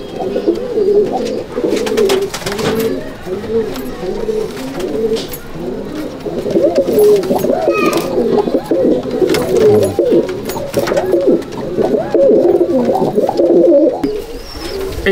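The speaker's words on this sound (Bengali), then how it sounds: "এই হচ্ছে আমার ওমানের ট্যাডি পায়রা।" Omani teddy pigeons coo loudly and continuously in a loft, several birds overlapping in rolling, throaty rhythmic calls, with occasional clicks and rustling.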